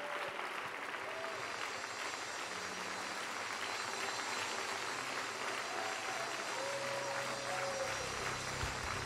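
A church congregation gives a hand clap, steady continuous applause from a crowd in a reverberant room, moderately loud and lasting throughout.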